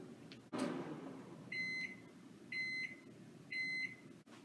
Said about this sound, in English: our pasta with cheese and milk is going to go into the microwave for 1 minute